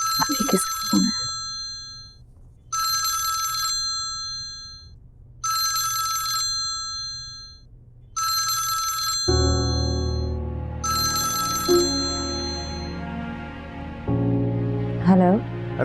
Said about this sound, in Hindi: अभी किसका फोन है?